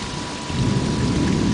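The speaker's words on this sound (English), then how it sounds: "Pretty good thunderstorm going on." A rotating thunderstorm in southeast Virginia in late July pours steady heavy rain, and a deep rumble of thunder swells beneath the hiss partway through, loud and close with no voices.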